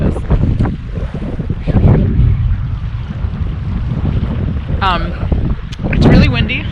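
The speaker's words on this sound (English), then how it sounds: "It's really windy." Gusty wind buffets the microphone beside a cold mountain lake at Glacier National Park, rumbling close and loud in uneven surges, with a voice speaking over it near the end.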